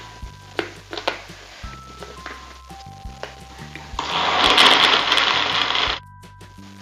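An electric blender whirs loudly through an avocado milkshake for about two seconds, after quieter kitchen clatter and a few knocks.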